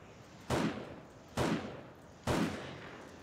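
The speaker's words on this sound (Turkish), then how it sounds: "Tamam, kafasına sıkıyorum." Three sharp gunshots from the video game 7 Days to Die, spaced almost a second apart, each a loud close crack with a short fading tail.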